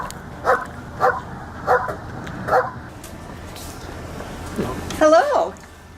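Police K9 unit dogs barking in a series of sharp, evenly spaced barks at close range, followed by a longer whining, yipping outburst near the end.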